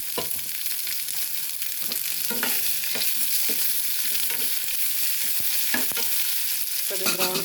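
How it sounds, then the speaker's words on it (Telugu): Onions frying in hot oil in a kadai after a mustard-seed tempering, a loud steady sizzle with intermittent scraping and clinking of a stirring spoon. "ఇప్పుడు ఉల్లిపాయలు వేసేసుకుందాం."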